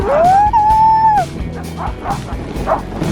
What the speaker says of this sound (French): Ensuite on a essayé le chien de traîneau ou traîneau à chien